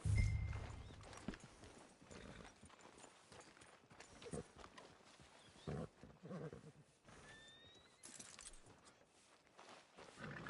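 Horse hooves in Red Dead Redemption 2, soft clip-clop steps from a newly acquired horse, fairly quiet and irregular with a few louder thumps over a faint game background.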